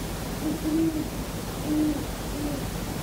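A great horned owl hooting outside a window at night, a few low, soft hoots spaced apart over a steady background hiss, heard at a distance.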